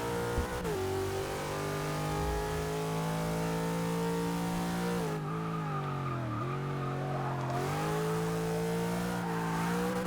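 A 1998 Subaru 22B rally car in Forza 6 races hard, its engine droning loudly at high revs with shifting pitch, dipping briefly as the driver lifts and then climbing again, continuous and close.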